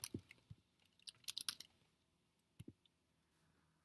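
Keys on a computer keyboard are typed in short bursts while entering a username, close and quiet, with a few separate clicks and brief pauses between groups of keystrokes.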